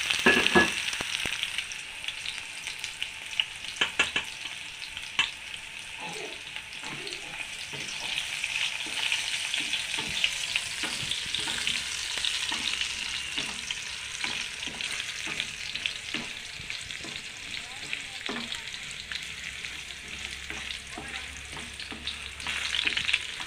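Garlic sizzling and frying in hot oil in a pan with cumin for a leafy greens and eggplant-leaf dish, a steady dense crackle with occasional stirring scrapes throughout, no talking.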